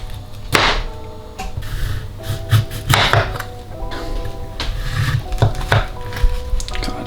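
A knife slices a pear on a cutting board with a series of sharp, close chopping knocks spread irregularly over several seconds, with no voices.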